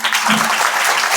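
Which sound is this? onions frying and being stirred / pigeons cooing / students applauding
students applauding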